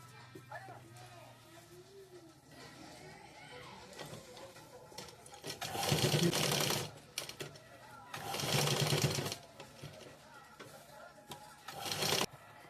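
A sewing machine stitching a blouse runs in several loud bursts of fast, even rattling, close up, separated by quieter pauses with faint background sounds.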